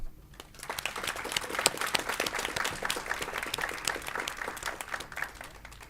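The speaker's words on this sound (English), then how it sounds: "I think it would be fine if we clap for each one of them individually as they come up" An audience at a board of education meeting applauds steadily for about six seconds, a dense patter of many hands clapping, moderately distant and fairly soft in a room.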